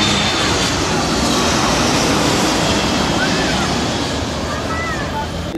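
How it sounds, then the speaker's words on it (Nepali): An airplane approaches near the airport, a loud continuous roaring engine drone that fills the whole stretch over traffic background noise. "यहाँ पर चाहिँ प्लेन आउँदैछ होइन। यो चाहिँ एयरपोर्ट साइडबाट"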